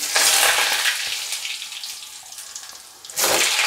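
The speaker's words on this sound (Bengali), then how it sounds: "এবার এখানে দেবো আলু" Potatoes dropped into hot oil spiced with bay leaves, dried chilli and cumin, a loud hissing sizzle bursting up at once, slowly settling, then flaring again sharply near the end.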